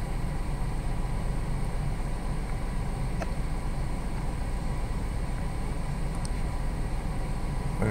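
A FIMI X8 SE drone flies low near rocks, its steady motor whine and rushing hum running unbroken and fairly loud throughout, with no voices.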